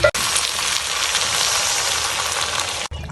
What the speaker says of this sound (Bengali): এবার ঝোলের জন্য দিয়ে দেব জল